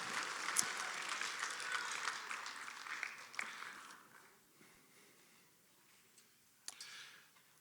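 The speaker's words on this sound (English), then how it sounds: "give a big round of applause" Audience applause at a college National Signing Day event, a moderately distant burst of clapping that fades after a few seconds, followed by quieter room noise and a brief second smattering.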